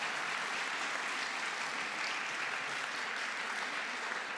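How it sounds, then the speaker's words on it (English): Sustained audience applause after a conference session at a UNESCO UNITWIN 30th anniversary event, steady and dense clapping filling the hall throughout without pause. "join me for a round of applause to all the speakers, each and every one"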